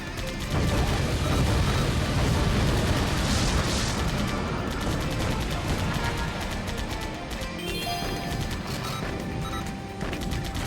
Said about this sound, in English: It's all these little pea shooter cannons?